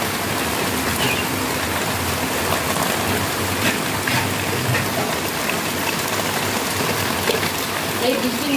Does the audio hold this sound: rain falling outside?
yes